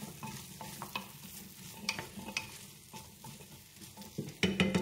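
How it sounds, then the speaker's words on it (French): Squash soup ingredients with coarse salt are stirred in a pot, the spoon scraping in uneven strokes over a gentle sizzle, close by, with a louder clatter at the end. "Je mélange bien."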